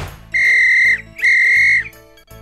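A safety whistle from an emergency kit gives two shrill, sustained blasts in quick succession, loud and close, with no talk over them.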